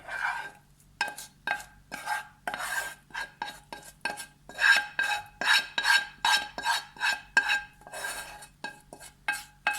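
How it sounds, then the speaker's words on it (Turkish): Bulgur and lentil köfte ingredients get mixed in a bowl with a utensil, producing repeated rhythmic scraping and clinking strokes, close and fairly loud, with short pauses between bursts and no speech. "Şimdi bütün malzemelerimizi birbirine karıştıralım."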